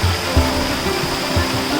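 Karakkund waterfall in Kannur, a steady broadband rush of falling water, loud and near, holding constant throughout the short stretch.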